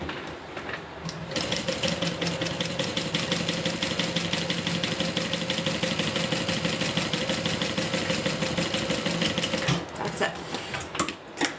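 A sewing machine stitches across the top of a pocket lining, a steady close whirring run of about eight seconds that starts and stops abruptly, with a little talk at the edges.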